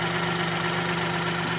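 A second-hand car's engine idles steadily and loudly close by, a continuous low mechanical hum with a slight knocking vibration and no talk over it.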